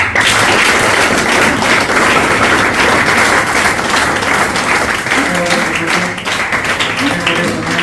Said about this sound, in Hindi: मैं चाहूंगा कलेक्टिवली सभी एक बार छोटी ताली बजाएं